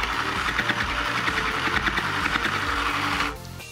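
Domestic sewing machine stitching a bag strap onto fabric in a zigzag pattern, a steady close mechanical whirr with rapid rhythmic needle thumps that stops abruptly near the end; no talk.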